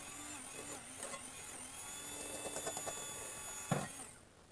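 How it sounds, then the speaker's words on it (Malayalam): An egg beater whirs steadily as it beats sugar into cake batter, a continuous mechanical drone at close range with slight rises in pitch, then fading out at the end. "നമുക്ക് ഒരേ സൈഡിലോട്ട് എഗ് ബീറ്റർ വെച്ചിട്ട് ബീറ്റ് ചെയ്തെടുക്കാം"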